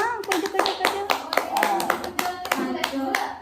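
Schoolchildren in a classroom clap for a classmate, a quick run of sharp, fairly close claps under a teacher's voice and children's chatter.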